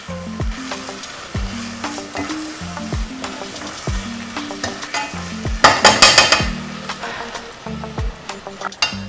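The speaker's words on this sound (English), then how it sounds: "So I'm going to fry that for 2 to 3 minutes." Curry paste fries in oil in a pan for a fish sauce, sizzling steadily while a utensil scrapes and stirs in repeated strokes, with a louder burst of sizzle midway and no talk.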